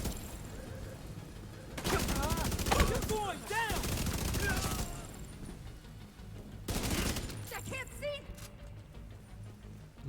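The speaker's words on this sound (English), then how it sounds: "we sprayed a bit because it was long distance and we missed a few shots" Assault rifle with a 120-round magazine firing in The Division 2, two long sustained bursts of rapid gunfire separated by a pause, loud and close, with game effects ringing between shots.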